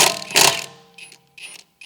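A socket tool loosens a lug nut on a 2018 Audi S5 wheel, giving a sharp metallic ratcheting burst up close, then two fainter clicking bursts.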